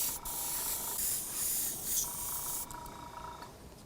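Aerosol makeup sprayed onto a paper stencil in steady bursts of hiss, fairly close, with a brief pause near the middle.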